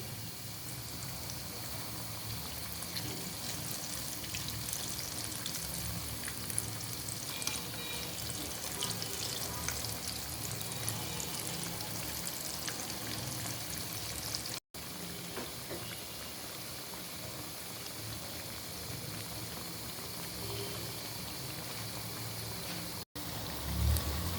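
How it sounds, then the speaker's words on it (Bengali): Green banana kebabs deep fry in hot oil, giving a steady, continuous sizzle and fine crackle at an even level with no talking. "এভাবে আমি সবগুলো কাবাব ডিপ ফ্রাই করে নিচ্ছি"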